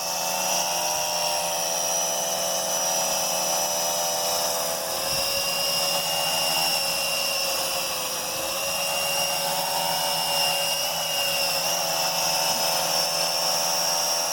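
A Venom Pro GPS drone flying and coming in to land, its propellers giving a constant high-pitched buzzing whine with stable tones, loud and close, holding steady with slight wavering in pitch throughout.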